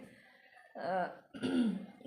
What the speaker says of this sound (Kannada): ಅಷ್ಟು ಕೆಮ್ಮು ಶುರು ಆಗಿಬಿಟ್ಟೈತಿ ನಂಗೆ